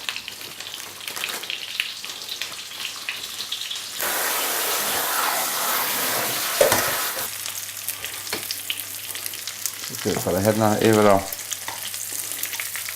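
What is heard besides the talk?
frying food in oil in a pan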